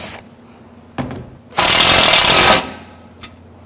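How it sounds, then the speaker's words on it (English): A power driver sinks a 3/4 inch screw sideways into a stair top rail on a cable railing run, giving a short tap, then one loud, close whirring burst of about a second before stopping, followed by a faint click. "It's going to drop a 3/4 inch screw into it from the side."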